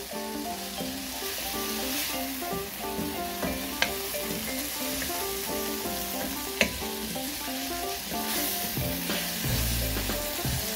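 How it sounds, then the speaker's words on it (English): Noodles being stir-fried with sauce in a pan, with a constant close sizzle and stirring under background music and a couple of sharp clinks. "So we got our sauce. Try to get every bit in there. Stir that around for a bit."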